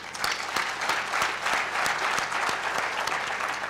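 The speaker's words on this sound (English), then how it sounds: "I would like for us to give a very big clap to the incredible faculty of BIHC." A commencement ceremony crowd claps for the faculty, dense sustained applause filling the hall for a few seconds, even and continuous with individual claps ticking through.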